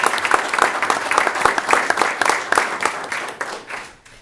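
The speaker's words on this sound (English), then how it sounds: "Let's give them a round of applause." A smaller audience at a town meeting claps for the panel, distinct individual claps forming a moderate, uneven applause that tapers off and dies away within a few seconds.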